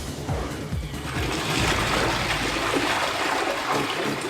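A Sésame wall-hung toilet with a dual 3 or 6 litre button is flushed: a close, steady rush of water swells after a second and keeps pouring for several seconds, with no talk.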